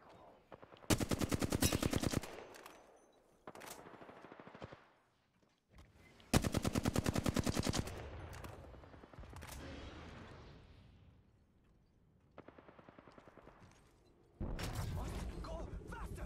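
Automatic weapon fire in the shooter video game Apex Legends comes in several loud rapid bursts, separated by quieter gaps with game sounds, while a player talks at times.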